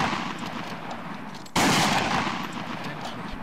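Gunfire in the video game ArmA 3: a sudden loud burst of shots cuts in midway over a quieter noisy background, then continues as sustained rattling fire.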